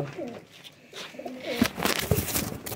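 Rooftop pigeons coo softly among light rustling, with a couple of low, throaty coos standing out near the end against a quiet outdoor background.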